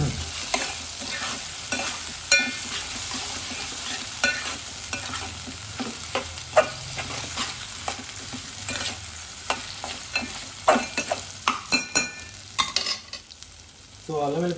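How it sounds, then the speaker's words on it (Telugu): Ginger garlic paste fries in hot oil in a pan, a steady dense sizzle with scraping, clattering stirs of a spoon throughout, close and with no talk. "హాఫ్ టేబుల్ స్పూన్ అల్లం వెల్లుల్లి పేస్ట్ వేసుకోవాలి."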